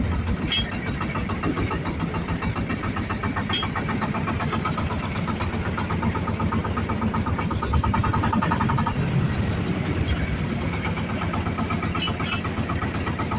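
A Shifeng tractor engine runs steadily and loud throughout, its rumble swelling briefly as it revs up partway through, with no talking.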